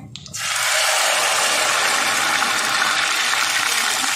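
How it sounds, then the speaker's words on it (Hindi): Water poured into a hot pan while making sweet vermicelli gives a sudden loud sizzle and hiss that settles into a steady, close rushing boil. "अब इसमें हम पानी डाल देंगे। ये मैंने 1 कप पानी रखा है,"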